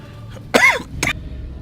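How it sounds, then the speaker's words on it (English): Two short coughs, the first harsher and louder, a beat apart over a low background hum. "Apologies for the cough."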